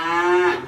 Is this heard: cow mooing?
yes